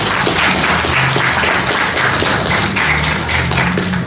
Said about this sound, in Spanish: vamos a darle la bienvenida con un fuerte aplauso,